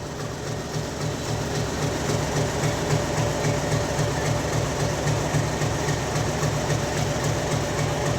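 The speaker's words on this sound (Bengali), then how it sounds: "খুব সুন্দর একটি ট্রেন" A train at Tongi railway station in Bangladesh, a loud steady low engine rumble and idling hum with rail noise, continuous and close, with no talking.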